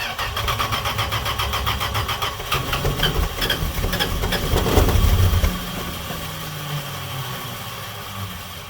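A Dodge D100 pickup truck engine starts cold and then idles roughly with loud, steady mid-range rumble and knocking, revving up briefly around the middle before settling back to a lower idle.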